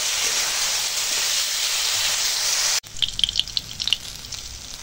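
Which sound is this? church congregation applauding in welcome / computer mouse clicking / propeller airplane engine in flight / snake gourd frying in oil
snake gourd frying in oil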